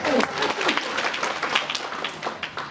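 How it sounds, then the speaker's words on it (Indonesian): A women's church congregation applauds during a worship service, a moderately loud wash of clapping with a few faint voices mixed in. "Tepuk tangan dong buat tante-tante ya."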